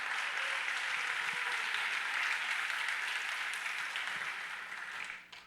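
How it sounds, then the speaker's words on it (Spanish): Church congregation applauding during a Spanish-language sermon, a sustained even roar of many people clapping that holds steady and tapers slightly at the end, fairly faint and distant. "Denle ese fuerte aplauso al Señor."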